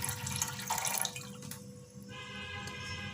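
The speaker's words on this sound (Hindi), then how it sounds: "अब मैं इसमें पानी डाल रही हूँ" Water poured from a vessel onto boneless mutton in a pressure cooker, a soft, steady splashing and trickling that thins out after a couple of seconds, faint and close, with no talk.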